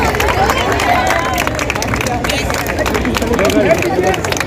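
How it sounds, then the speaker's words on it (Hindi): A crowd applauds at a sports prize ceremony for young champions at a gymkhana festival, the steady clapping mixed with crowd babble and a voice talking over it. "तालियां बजती रहनी चाहिए।"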